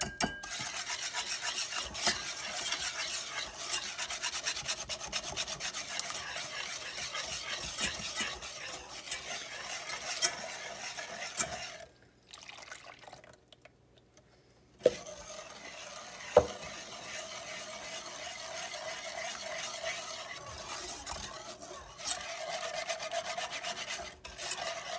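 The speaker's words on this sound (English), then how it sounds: "Just stir it up some." Milk and dark brown sugar stirred in a pot for a butterscotch pie, a steady scraping, rasping swirl of a utensil against the pot, close and continuous with a brief pause and a couple of knocks.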